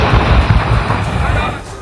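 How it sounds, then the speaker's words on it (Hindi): Gas cylinders loaded on a burning truck explode one after another, making a loud, continuous, roaring rumble broken by dull bursts that fades near the end. "उस पर लदे सिलेंडर एक के बाद एक फटते रहे।"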